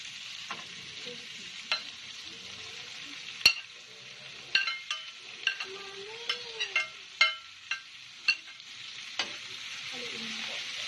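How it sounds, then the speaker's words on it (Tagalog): Sliced bitter gourd fries in a hot pan with a loud, continuous sizzle, broken by repeated sharp clinks and scrapes of a spatula stirring it, with no one speaking. "At ngayon po ay ilalagay na po natin ang sahog nating ampalaya."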